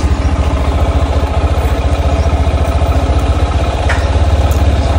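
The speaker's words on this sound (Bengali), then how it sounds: "দেখুন, ডানে দিলে আরপিএম বাড়ছে আর বামে দিলে আরপিএম কমছে।" A motorcycle engine idles close by with a fast, even, thumping pulse, and its revs rise and fall slightly as the idle adjustment knob is turned by hand.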